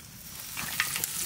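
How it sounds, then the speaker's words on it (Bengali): Bay leaf sizzling in hot mustard oil, a brief close crackling fry with a couple of small pops, heard alone. "ফোড়নে দেবো তেজপাতা"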